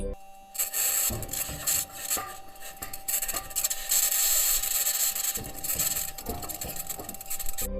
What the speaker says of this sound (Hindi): मंगल ग्रह की चट्टानी सतह पर मेटल की आवाज सुनाई देगी